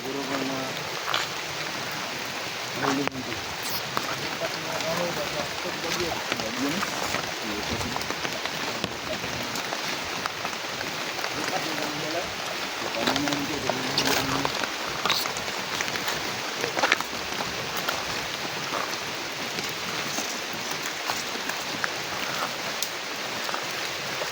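Steady rain pours down in a continuous hiss, with scattered louder drops and splashes across the whole stretch.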